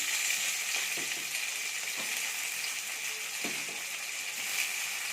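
Onion and tomato sautéing in a pan with a little rock salt, a soft continuous sizzle with a few faint taps of stirring.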